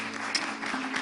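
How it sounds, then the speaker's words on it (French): Audience applause for a contestant named Kenopi on a French television show, a dense, steady wash of clapping through one brief second. "Merci d'applaudir Kenopi, s'il vous plaît"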